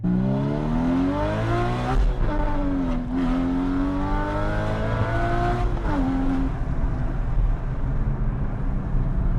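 A sports car engine, likely a Porsche, revs hard while driving, rising in pitch through gear pulls with brief dips at shifts, loud and close inside the car, with no talking.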